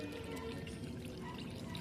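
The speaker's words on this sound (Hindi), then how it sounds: "इसमें खाद देके मैं पानी दे रही हूँ इसमें भरपूर।" Fertilizer-mixed water pours steadily into a 100-litre drum holding a bougainvillea, a continuous broadband splashing and gurgling rush that stays close and even throughout, with no talk over it.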